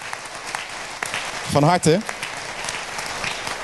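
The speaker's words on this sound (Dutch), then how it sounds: "Een warm applaus." Warm audience applause at a literary festival prize ceremony for a writer, a steady wash of clapping beneath a voice that speaks briefly over it.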